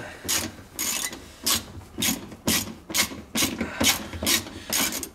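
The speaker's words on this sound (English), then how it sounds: "So yep, the screwdriver in with the ratchets on." A ratchet driver turns to loosen bolts during a mini restoration project, its rapid pawl clicks coming in about nine repeated bursts, close and fairly loud, with no talking.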